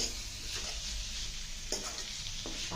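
Gongura masala with jackfruit seeds frying in oil over a low flame, a dense continuous sizzle with a couple of brief stirring scrapes, close and steady.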